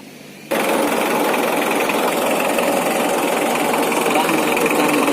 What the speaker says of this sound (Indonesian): hidupkan mesin, kita panaskan